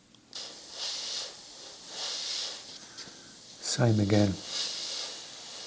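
An airbrush sprays paint onto the bottom of a pair of jeans in slow passes, making a soft, airy hiss that swells and fades several times, with someone briefly speaking partway through.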